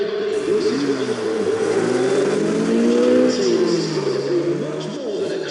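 A 1967 Camaro drift car in the Need for Speed ProStreet video game revs hard and steadily at close range, its engine note rising and falling without a break and a faint tire squeal underneath.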